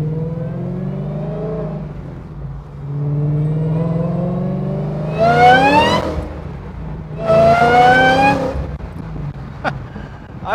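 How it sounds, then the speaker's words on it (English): A supercharged 1200 rwhp 2014 Ford Mustang convertible with a stick shift idles with a low rumble, then revs hard twice, each time with a loud, rising supercharger whine. "I am sure the camera is picking up that blower whine because it is extremely loud"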